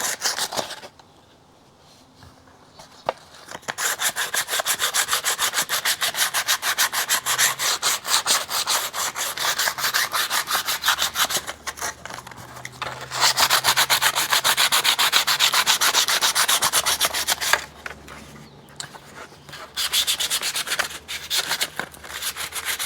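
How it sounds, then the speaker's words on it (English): Sandpaper is rubbed by hand against the inside of a fiberglass body part from a 1973 TC125 motorcycle, giving long, steady, gritty scraping strokes that are loud and close, broken by a few short pauses. "I'm going to take some sandpaper and abrade it inside to give me a rough surface so the fiberglass repair will stick to it."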